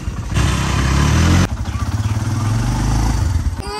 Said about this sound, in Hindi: जैसे ही बाइक स्टार्ट हुई है